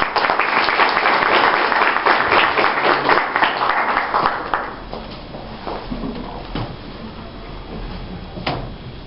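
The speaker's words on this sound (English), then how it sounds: "Sheikh Hanif Mohammed, with a loud round of applause." Loud round of audience applause at a Muslim community lecture event, dense clapping from a large crowd that gradually thins and fades out, with a few scattered claps at the end.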